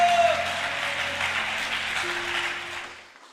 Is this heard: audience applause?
yes